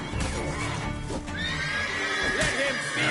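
A horse in The Witcher 3 gives a clear, close whinny over a bed of clip-clopping hooves and game ambience, the neigh rising then trailing off.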